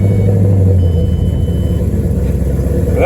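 A cammed Ford Mustang engine idles hard after a cold start, loud and close, with a choppy, pulsing low rumble and a brief steady tone early before a rising whine at the end.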